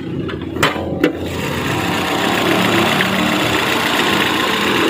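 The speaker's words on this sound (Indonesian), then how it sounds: "tadi sudah tak nyalain, sekarang kita melihat mesinnya dulu" A Chevrolet Blazer DOHC LT engine idles smoothly and steadily at close range, after a couple of sharp clicks at the start, with no talking over it.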